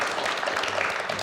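An audience at a Russian talk show bursts into steady, dense applause, with loud continuous clapping and no break or voices over it.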